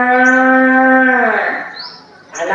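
A calf moos once in a long, steady, clear call that trails off, with a brief higher sound after it, used as a sound effect in a storytelling setting.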